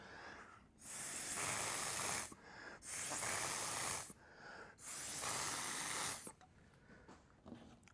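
Three long breathy hissing bursts from a mouth atomiser spraying a second coat, each lasting a second or two, separated by short quiet gaps, close and fairly soft.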